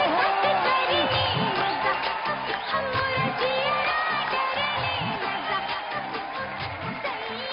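A studio audience cheers and claps in a sustained wash of crowd noise as actress Madhuri Dixit Nene is welcomed onto a comedy talk show stage; the sound is dense and continuous, with whoops and shouts mixed in and no individual speech.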